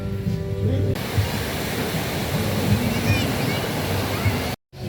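Sea waves at a beach, a steady broadband wash of surf with a continuous roar, heard close and fairly loud, briefly cut off at the end.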